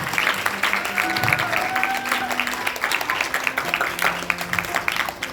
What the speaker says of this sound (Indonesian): kita kasih tepuk tangan dulu buat saudara-saudara kita, sahabat-sahabat kita.